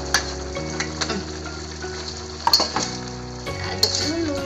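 Fish drops into simmering chili sauce for Betawi-style pesmol, a close sizzle with stirring and occasional clinks of utensil on pan, moderately loud, with no talking.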